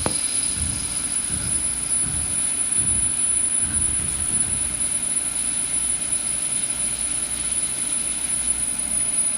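Star SR 32J CNC Swiss lathe running a peck drilling cycle on the sub-spindle, a steady loud machine drone with rhythmic low pulsing in the first few seconds and a constant high whine throughout.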